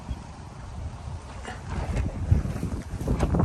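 Wind blows and gusts across an outdoor garden at evening, buffeting the microphone with a rumbling roar that builds toward the end.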